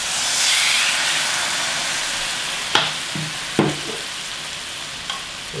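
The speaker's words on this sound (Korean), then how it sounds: "이제 구워 볼게요." Marinated hanwoo striploin skewers grill in a pan, with a loud, continuous sizzle and hiss broken by a few clinks of a utensil.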